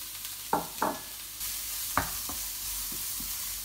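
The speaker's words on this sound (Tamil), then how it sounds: "ஸோ இப்போ வந்து நம்ம கேரட்டை போட்டு ஒரு 2-3 மினிட்ஸ் கொஞ்சம் வதக்குவோம் லேசாக." Carrots sautéing in a pan for carrot halwa, with a few stirring scrapes over a steady low sizzle, close and moderately loud, no talking.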